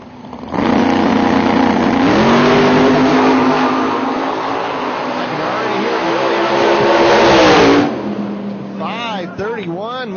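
Two drag cars launch side by side, a 2006 Mustang with a 632 cubic inch big block Chevy and a 1991 Z28 Camaro, roaring loud as engine pitch climbs through the run, then cutting off sharply, followed by a brief fading rev.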